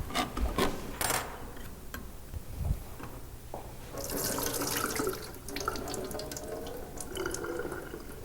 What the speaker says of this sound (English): I'm going to take our can of our black olives. Going to drain that.